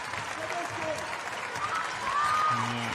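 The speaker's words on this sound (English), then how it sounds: "Local Finnish crowd doing what they can to try and rally their team here in the closing stages of this first half" Finnish home crowd at a women's basketball qualifier against Hungary, a sustained wash of applause and cheering near the end of the first half, with a commentator's voice layered over it.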